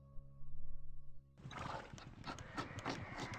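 Horse neighing in the strategy video game Imperialism II, a loud whinny at the start followed by a busier burst of game sound effects with clopping hooves.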